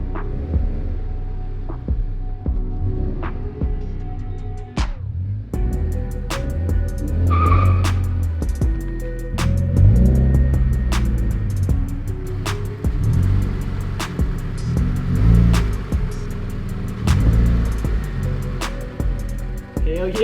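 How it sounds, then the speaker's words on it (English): A widebody FRS car slides with its engine bouncing off the rev limiter, a loud throbbing exhaust broken by rapid stuttering cuts and tire noise, close and sustained, with little or no talk. "Bouncing that limiter though."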